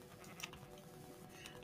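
A sheep in the video game Minecraft bleats in a short, faint burst, followed by a second quieter bleat, alone with no talk.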